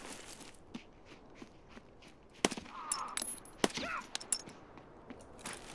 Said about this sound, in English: I missed 2 headshots on that scav there. Or 2 shots.